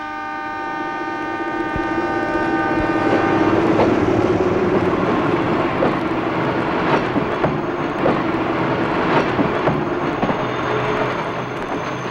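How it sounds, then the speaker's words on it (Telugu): A train rumbles and clatters past with a steady mechanical drone and a long horn-like tone early on, fairly loud and continuous, with no talking. "అన్నయ్య, ట్రైన్ వస్తుంది"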